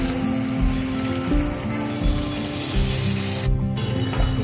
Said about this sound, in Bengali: এবার মিক্সি ধোয়া জলটা দিয়ে দেবো।